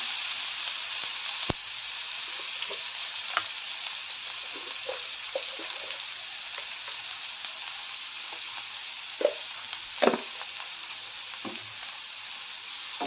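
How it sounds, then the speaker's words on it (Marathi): Onion and tomato frying in oil in a pan with curry leaves, a steady bright sizzle throughout, broken by a few soft scrapes and taps of a stirring spoon, with no talking. "टोमॅटो हे सर्व तेलामध्ये चांगलं परतून घेऊया"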